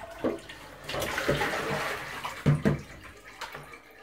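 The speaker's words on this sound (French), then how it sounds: "On va rincer pour une dernière fois." Okazi (okok) leaves are being rinsed in water for Cameroonian ikok, with close splashing and sloshing in a basin and a few sharper slaps of wet leaves hitting water.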